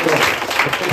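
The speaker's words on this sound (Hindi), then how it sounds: "जो समझे और जोर ताली लगाएंगे" Church congregation clapping together, a brief dense burst of applause with a voice mixed in.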